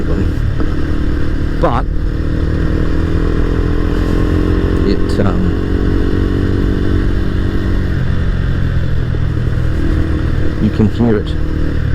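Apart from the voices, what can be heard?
small single-cylinder motorcycle engine with louder exhaust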